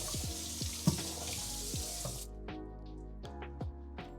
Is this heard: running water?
yes